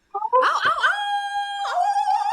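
An audience of people imitates a wolf howl together at a live event, voices rising into a long sustained wavering howl that holds steady before a second swell of howls joins in.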